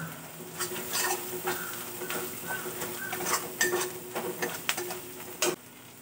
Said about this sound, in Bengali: একসঙ্গে মশলাটা আবার একটু ভালো করে কষিয়ে নিচ্ছি।